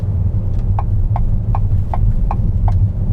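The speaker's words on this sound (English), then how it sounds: "For whatever reason, the blinker is extremely loud." Loud, evenly spaced ticking of a turn-signal blinker inside a VW e-Caravelle electric van, seven crisp clicks at a steady rhythm over a constant low cabin hum, with no talking.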